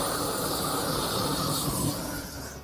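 Gas torch flame roaring steadily over bacon on a barbecue grill, a close, constant breathy hiss that fades out at the end.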